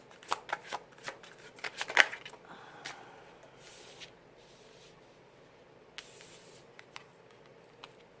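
Tarot cards shuffled by hand, with a quick run of crisp riffling snaps and flicks at first, then softer, sparser card slides and taps close by.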